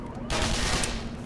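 A rapid burst of automatic gunfire in the video game Black Mesa, a dense, loud rattle lasting about a second after a brief quiet start.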